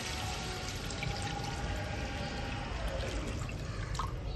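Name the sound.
pouring a little water into the curry pan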